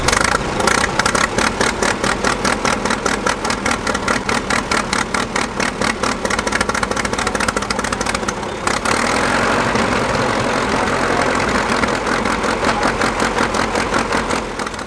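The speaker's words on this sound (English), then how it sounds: "This winch tractor soon attracted a crowd when it started running rough." A Fordson winch tractor engine runs rough on a crawler track conversion, loud and close with a fast, uneven chugging pulse that stutters and shifts character midway, the rough beat continuing to the end.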